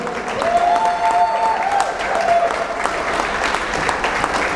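Audience applause at the CCGG 2016 introduction event, a steady dense roar of clapping sustained throughout, with faint tonal whistles or cheers rising above it.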